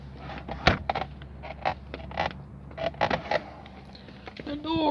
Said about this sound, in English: My door won't close.